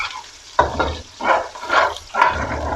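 Water poured into a pan of frying ginger-garlic paste and onions for vegetable pulao, giving a loud burst of sizzling that swells and fades in several rhythmic waves as the mixture is stirred.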